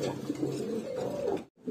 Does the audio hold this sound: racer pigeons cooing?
yes